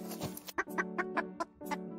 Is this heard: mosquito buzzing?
no